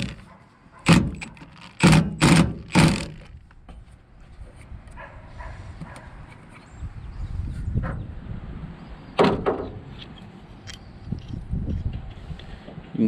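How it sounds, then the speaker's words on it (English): An old truck's door, left sitting for twelve years, is shut four times in quick succession, each a sharp, loud metallic slam, followed by quieter rattling and handling noises close by. "if the door shuts good anyway."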